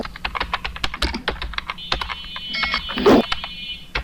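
Rapid, irregular clicking of a computer keyboard while text for a shop's cash memo is typed in MS Word, close and steady with short pauses between bursts of keystrokes.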